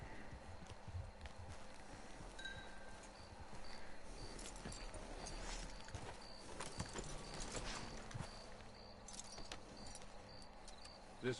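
Horse hooves clip-clop steadily in Red Dead Online, a faint continuous trot under low ambient game noise with no speech.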